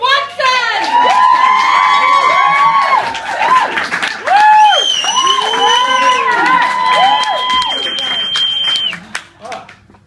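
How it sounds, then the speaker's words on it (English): A comedy club crowd at the Crown & Anchor cheers, whoops and applauds loudly for a comedian taking the stage, with sustained shouting and clapping that fades toward the end. "Start your applause for your next act."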